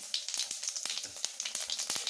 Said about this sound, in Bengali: জিরা আর শুকনো লঙ্কা ফোড়ন দেবো